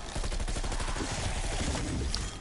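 Rapid, steady bursts of submachine gun fire in a video game, loud and close, with rhythmic shots that keep going for a couple of seconds.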